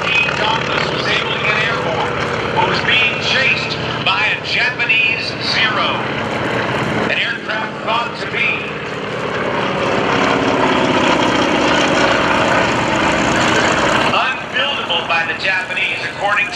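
WWII warbird propeller aircraft, including a Japanese Kate torpedo bomber, roar past at the Blue Angels homecoming airshow, a loud sustained engine drone that swells and fades, heard under a steady announcer's voice.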